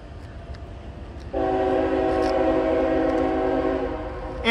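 Freight train M561, Selkirk to Cincinnati, led by an SD70AC locomotive, sounds a loud, sustained air horn that starts abruptly and holds for about three seconds over the low rumble of the passing train at Game Farm Road, New Scotland.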